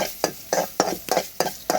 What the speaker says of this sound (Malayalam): ഞാൻ ഇങ്ങനെ വറുക്കുകയാണ് വറുത്ത് വറുത്ത്